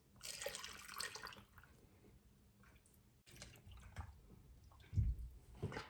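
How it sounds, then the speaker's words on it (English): Broth pours into canning jars of Hungarian beef goulash, a hissing, splashing liquid stream that fades away, followed by a few softer trickles and dull clunks close by. "I'm going to start filling with the broth and debubbling."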